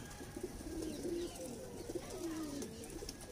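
Pigeons coo softly in a short run of low, throaty calls, a few close together and then another, set against a faint background murmur.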